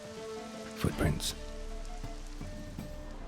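Rain falling in the video game The Witcher 3, a soft steady patter under a low hum, with a few louder clattering footsteps or knocks near the start.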